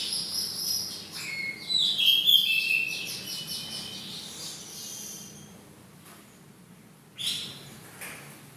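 Birds in an aviary give scattered high chirps and twittering calls close by, with quieter stretches and a faint insect-like hum between calls.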